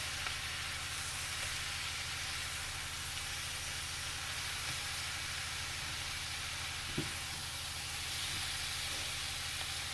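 Sausage and onions frying in a cast iron skillet, a faint, even sizzling hiss that holds steady throughout, with one brief clink partway through.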